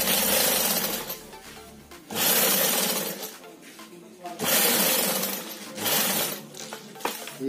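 A sewing machine runs a straight stitch fitting a 17-inch zipper on a handmade shoulder bag, in three loud, close bursts of a couple of seconds each, separated by brief pauses.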